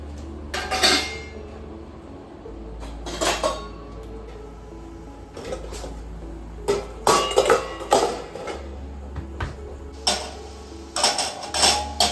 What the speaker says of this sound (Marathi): आत्ताही मी आदल्या रात्रीची सगळी भांडी आधी लावून घेते आहे डब्बा वगैरे सगळं लावून घेते